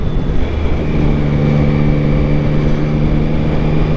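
Engine of a 2023 Yamaha MT-09 motorcycle on a test ride, a loud steady drone with strong harmonic hum and wind rush, continuous and close, no talk.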